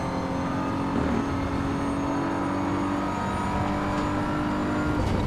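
A BMW M4 engine pulling hard in the Assetto Corsa Evo racing game at the Nürburgring, a steady loud drone held in gear with a rising tone, tyre and road noise underneath.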